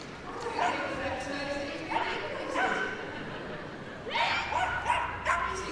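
A small dog on a Crufts agility course yips and barks repeatedly in short bursts, fairly faint under continuous commentary and arena noise.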